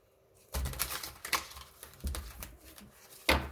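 A few brisk riffling bursts of tarot cards being shuffled, close and fairly loud, with quiet pauses between them.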